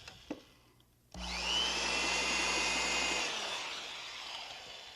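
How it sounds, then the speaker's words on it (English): An electric drill boring into wood starts abruptly and runs at steady high speed for about two seconds, then winds down with a lingering whine, loud and close. "An electric drill."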